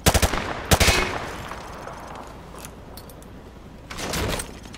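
Gunfire in Call of Duty: Modern Warfare 2 Campaign Remastered, shot through light cover: a sharp burst at the start, another shot just before one second, and a further burst near the end.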